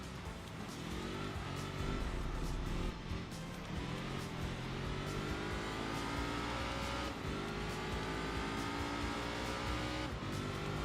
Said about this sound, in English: I love the boxer sound of the engine.